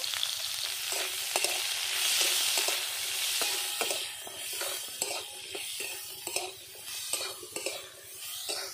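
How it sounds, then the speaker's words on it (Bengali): Chopped onion, garlic, tomato and ginger frying with egg and soybean in a pan, a constant close sizzle under repeated clicking and scraping stirs that grow more frequent toward the end, no speech. "পেঁয়াজ কুচি, রসুন আর টমেটো আর আদা দিয়ে আমি ভালো করে এটাকে ভেজে নেব।"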